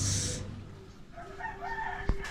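A rooster crows once in the near distance, with a brief sharp knock near the end over quiet outdoor ambience.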